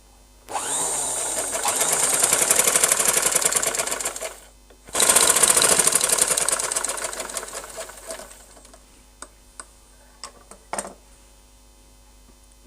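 A sewing machine stitching a long frock, running loud and close in two sustained whirring bursts separated by a brief stop, then falling quiet apart from a few small clicks and taps.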